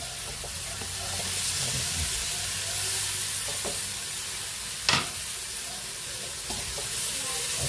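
Pork sizzles and fries in a pan with a steady loud hiss, broken by occasional spatters and clinks of stirring.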